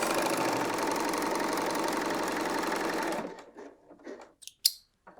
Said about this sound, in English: I'm going to just stitch through that again and then off